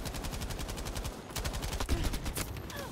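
An MG34 machine gun fired from the roof of a tank in the game Battlefield V, loud rapid bursts of automatic gunfire with steady rhythmic shots and brief pauses between bursts.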